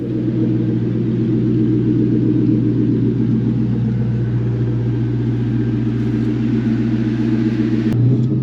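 A Ford Mustang engine idles with a steady low drone and a faint hum above it, close and constant, ending in a brief thump.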